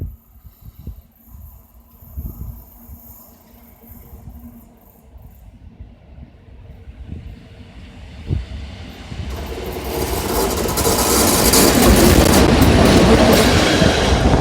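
A passenger train, hauled by EU07 locomotive 360, rumbles into Rzepin station, Poland, from a distance, its clatter and rolling noise swelling steadily louder until it roars close by.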